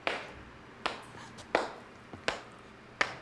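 Slow, deliberate clapping by a single man in a scene from the 1998 film Urban Legend: five sharp, isolated claps spaced roughly evenly in a quiet room.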